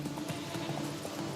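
Horse hooves clip-clop steadily in The Witcher 3, a quick even rhythm of close, soft thuds continuing throughout.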